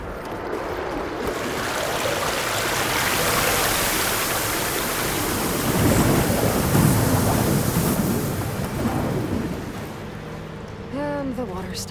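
Rushing, splashing water flows steadily in Horizon Forbidden West, a broad continuous wash that swells midway and then thins, with a brief tonal game sound near the end.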